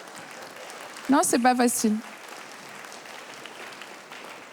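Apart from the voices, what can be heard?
audience applause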